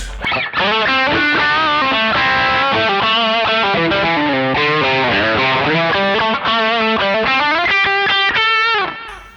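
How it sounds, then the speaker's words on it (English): Lead electric guitar through a Joyo American Sound pedal with a Mooer cab sim, a saturated singing line with bends and vibrato played loud and close, no talking over it. "And the lead sound."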